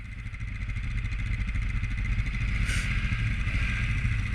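A 2021 Honda Rubicon 520 ATV engine runs steadily under throttle, a close, continuous mid-pitched drone with a rhythmic clatter and one brief bright hiss partway through.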